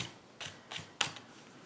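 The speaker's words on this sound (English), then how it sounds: "I'm just going to use some scissors to cut this out." Scissors cutting out a piece of paper card stock for a handmade Christmas card, three short, crisp snips spaced evenly and heard up close with no talking.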